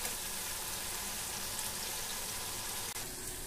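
Tomatoes frying in a pan for matar paneer, giving a steady, even sizzle with no breaks, soft and close.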